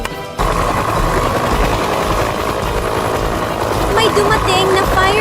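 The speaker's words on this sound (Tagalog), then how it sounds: "May dumating na fire rescue helicopter." Cartoon fire rescue helicopter arriving over a burning treehouse scene, a steady loud rotor-and-engine drone that fills the whole stretch, with a brief rise of other sound effects near the end.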